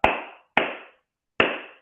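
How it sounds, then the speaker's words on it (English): Three crisp, isolated hand claps cupped to give a deep bass tone, two in quick succession then one after a pause, each sharp and close with a short decaying ring in a quiet room. "Here's my bass clap"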